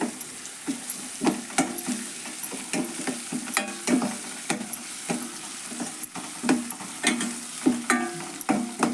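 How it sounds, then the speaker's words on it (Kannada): Green chilli, cumin, garlic and coriander paste frying in oil, with a soft sizzle under frequent rhythmic spoon scrapes and taps against the pan, close and steady throughout. "ಇದು ಎಣ್ಣೆ ಒಳಗೆ ಹಾಕ್ತೇನೆ. ಇದಕ್ಕೆ ಹತ್ತಷ್ಟು ಹಾಕ್ಕೊಂಡ್ರಿ ಇದನ್ನು ಫ್ರೈ ಮಾಡೋಣ"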